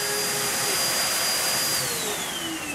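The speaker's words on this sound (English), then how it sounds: "So that's why I love this dryer. It's so versatile." A grooming dryer for a Westie blows continuously, a loud steady airy whoosh with a faint high motor whine and no pauses.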